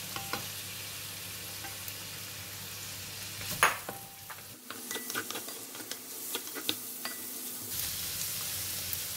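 Chopped onions fry in hot oil in a pot with curry leaves for a pork rib curry. A steady close sizzle runs throughout, with stirring scrapes, light utensil clinks and one sharp clatter partway through.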